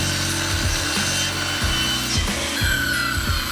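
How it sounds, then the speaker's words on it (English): A circular Skil saw rips through barn wood at a 45-degree bevel, loud and close, its motor whine dipping rhythmically as the blade bites and rasps through the old board. "So fire it up and follow the scribe line with your 45-degree mark on the skill saw's base."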